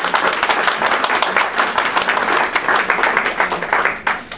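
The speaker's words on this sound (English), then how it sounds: "So please come up and give Dean Schunk a big round of applause" An audience at the closing plenary of a 2009 academic summit breaks into steady, dense applause, many hands clapping loudly and continuously before tapering off at the very end.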